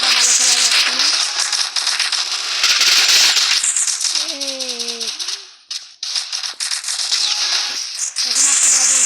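Rapid bursts of gunfire in the Free Fire mobile shooter, fired from a SCAR rifle, come loud and dense in quick rattling volleys with brief pauses, while a voice speaks over part of it.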